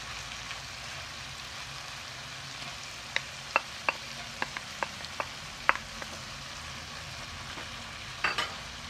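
Vegetables, shrimp and noodles stir-fry in a pan under a soft, steady sizzle. Scattered sharp clicks and taps from utensils come through faintly in the mid-section.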